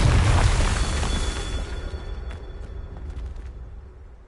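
A Confringo fire spell blasts in Hogwarts Legacy on PS5, with a loud booming burst at the start that rolls off into a long, fading rumble and crackle.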